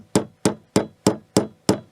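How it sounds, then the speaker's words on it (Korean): Hammer tapping the tip of a nail to blunt it in a woodworking shop: six sharp, evenly spaced metallic knocks, close and fairly loud, with no speech. "못을 끄트머리로 우그러뜨립니다. 이렇게 망치로 쳐가지고"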